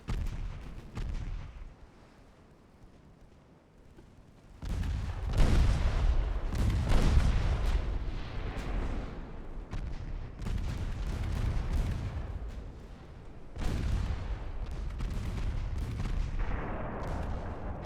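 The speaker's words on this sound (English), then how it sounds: "because these have 10-inch guns" Battleship 10-inch guns in the naval game Ultimate Admiral Dreadnoughts fire repeatedly in heavy booming salvos, deep rumbling blasts overlapping and rolling on, with a quieter lull near the start.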